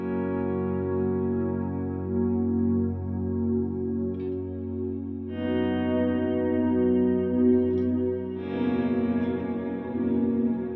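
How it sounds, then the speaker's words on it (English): Sustained electric guitar drone washed in reverb through a TC Electronic Plethora X5 pedal board, steady layered tones swelling as new notes enter and blend, with no talking. "And this is with reverb."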